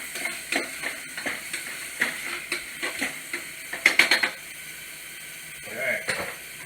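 Onions cooking in a pan for shrimp scampi, a soft steady sizzle broken by repeated rhythmic scraping and clinks as they are stirred, with a pause and a few more stirs near the end.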